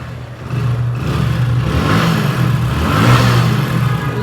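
A Hero Splendor self-start motorcycle engine runs close by with a steady, smooth mid-pitched putter, swelling slightly as it is revved, then settling back, with no talking over it.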